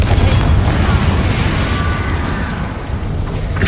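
Confringo fire spell blasts in Hogwarts Legacy, a loud, dense roaring boom of fiery explosion that fills the moment, with crackling debris and a rumbling low end that slowly fades.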